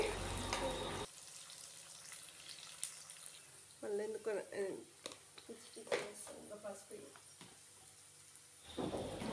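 Chopped onion frying in oil in a home kitchen, a faint steady sizzle running beneath someone talking, a little louder at the start and end.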